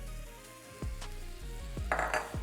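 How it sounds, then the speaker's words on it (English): Cooked beef tipped back into a hot pan for beef teriyaki, with a few distinct scraping clatters of utensil on pan over a quiet, faint background sizzle and no talking. "we're gonna add it all back into this same pan"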